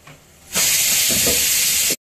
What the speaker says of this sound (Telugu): మూత పెట్టి మిక్సీలో ఇట్లా 2 సార్లు తిప్పి